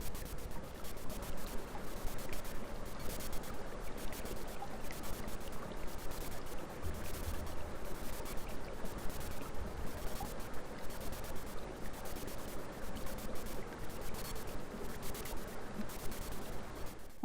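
Steady flowing water, like a mountain stream, runs continuously and evenly at moderate level with no breaks and no voices.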